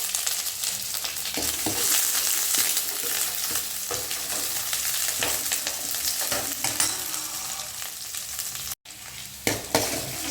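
Chana dal and dried red chillies frying in hot oil for a bitter gourd tamarind kuzhambu, a steady close sizzle broken by stirring scrapes and a few sharp pops and clinks near the end.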